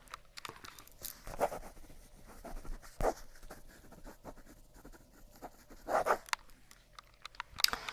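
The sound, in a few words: writing something down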